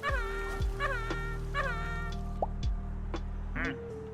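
Duck quacking in the video game Kulebra, a string of nasal cartoonish quacks repeated every half second or so over a steady, droning game music bed.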